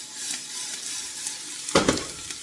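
Onions sizzle gently in a pan over low heat, a soft steady crackle with a brief louder burst of spitting near the end, with no voices.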